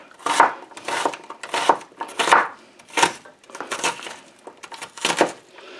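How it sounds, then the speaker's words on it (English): Knife slicing vegetables on a cutting board for homemade corn salsa, about eight crisp, evenly spaced chops up close, with no talk. "I'll slice that down like that."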